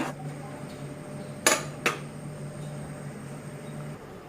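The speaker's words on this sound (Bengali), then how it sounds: "এখন আমি পেঁপেটা দিয়ে দিলাম।" Papaya pieces tipped into a cooking pot, giving two quick clattering clinks a moment apart over a quiet kitchen hum.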